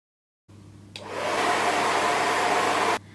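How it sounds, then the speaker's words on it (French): A hair dryer switches on and blows a steady, loud whoosh that rises in strength after a moment and keeps going close by for about two seconds before cutting off, heating a thermoformed face mask. "Vous allez prendre un sèche-cheveux."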